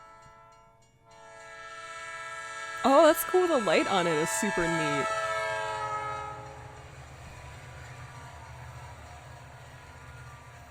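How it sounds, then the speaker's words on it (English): A ghost train passes with a loud, wavering horn blast lasting a couple of seconds over a steady rail rumble that fades slowly afterward; a person talks briefly beneath the noise. "The train horn is as loud as a train horn to the point where it actually vibrates the ground underfoot."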